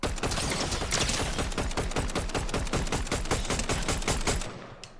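Rapid automatic gunfire in Fortnite, a dense, loud, steady burst of closely spaced shots that continues for several seconds before tapering off, with no voices over it.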